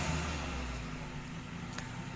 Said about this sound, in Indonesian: ini maaf itu agak berisik suara mesin mobil itu lagi dipanasin